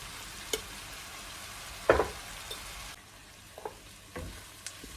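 Red pepper flakes and spices roasting in a pan give a faint, steady frying sizzle, broken by a few soft clicks and stirring taps, with no talk over it.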